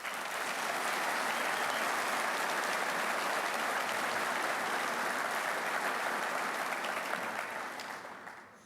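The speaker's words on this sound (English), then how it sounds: "Please join me in a round of applause for these individuals." A crowd applauds presenters at a firefighter of the year award ceremony, a sustained, even wash of many hands clapping, heard from a distance, that holds steady before tapering off at the end.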